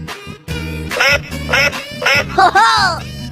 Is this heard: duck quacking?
yes